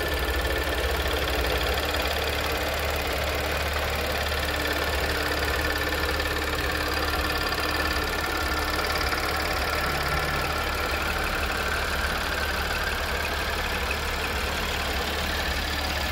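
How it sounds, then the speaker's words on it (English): A supercharged Audi V6 in a 2016 Audi S5 idles steadily under an open hood, a close, continuous mechanical drone with a faint whine and no break throughout. "And there's your Audi supercharged V6, just a great motor."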